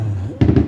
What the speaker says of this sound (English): now that they're doing the fireworks here, that works even better.